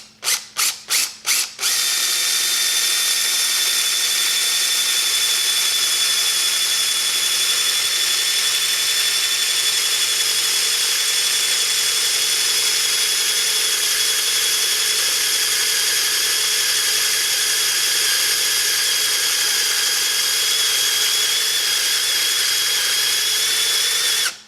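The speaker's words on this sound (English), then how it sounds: "So being cast iron, it's not too difficult to drill." A few quick bursts of a power drill spinning up, then a long, loud, steady high-pitched whine as the bit grinds through a cast iron transmission case.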